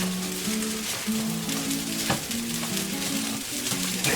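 Fried rice sizzles steadily in a pan with a tablespoon of sesame oil, a close, continuous crackle that runs without a break while a soft melodic tune plays underneath.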